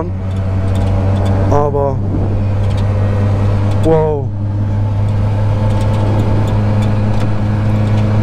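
A Piaggio Ape 50 three-wheeler drives with a loud, steady engine drone throughout, rising briefly twice as it revs, while someone speaks over it.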